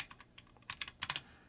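Quick keystrokes on a computer keyboard while coding, irregular taps that start light and sparse, then grow louder and denser in short bursts, close up with no talking.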